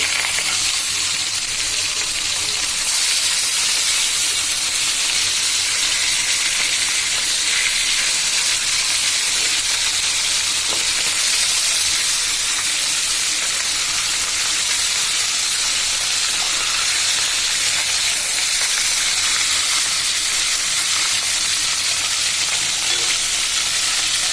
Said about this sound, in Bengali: আমার মাছ একদম ভাজা হয়ে আসছে, এবার তুলে নিব।